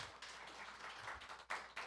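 Audience clapping at a policy seminar on Korean-language overseas broadcasting, a steady patter of many hands in a hall, with bursts swelling near the end of the brief stretch.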